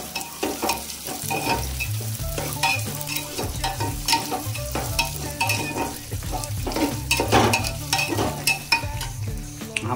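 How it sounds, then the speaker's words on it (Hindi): Three kinds of mixed lentils roasting in a hot pan, with a steady sizzle and scraping stir strokes repeating throughout, close and continuous with no voices. "तीनों दालि दऽ देलहुँ और तीनों के साथ में मिक्स कऽ कऽ बढ़िया से भूज कऽ"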